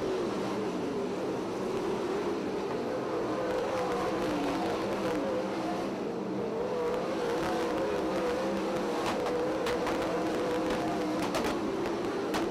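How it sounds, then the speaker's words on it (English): Stock race cars circling the oval at Ocean Speedway in Watsonville during a feature race, a continuous loud engine roar with rising and falling pitch as the pack works down the front straightaway. "comes up on the back bumper of Cody Shaw as they work their way down the front straightaway, 10 laps down."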